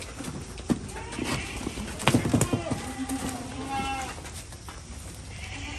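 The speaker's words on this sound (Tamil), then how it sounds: "இது ஒரு செம்மறி ஆட்டு குட்டி ஒன்று நல்லா அழகாக இருந்துச்சு" A young sheep lamb on a farm gives a few bleats amid busy livestock noise and shuffling, with people talking throughout.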